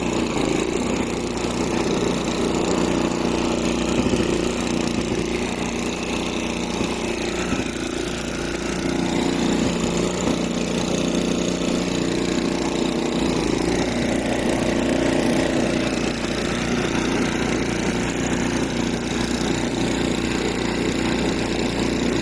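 A snow blower engine runs at high speed with the choke being eased off, holding a steady, loud, continuous drone with slight wavering throughout and no pauses.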